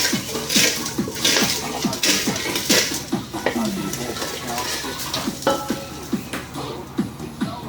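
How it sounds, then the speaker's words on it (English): Rhythmic scraping and stirring as a wine cake batter of sugar, butter and wine is mixed in a bowl, with quick repeated strokes of steady, fairly close clatter. "now mix out into the sugar and the butter and the wine"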